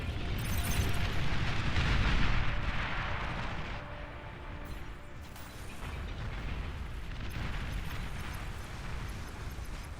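An enemy commander exploding in the real-time strategy game Beyond All Reason, a heavy rumbling blast that swells and then settles into continuous battle noise and mechanical clatter, loud and sustained.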